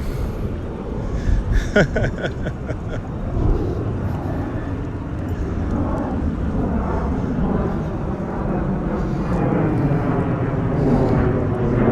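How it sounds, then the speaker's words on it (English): A loud, steady roar of an airplane passing overhead at the Rockaways in New York City, swelling and holding throughout with a broad rumbling drone and no talk. "And cue the plane flying over my head."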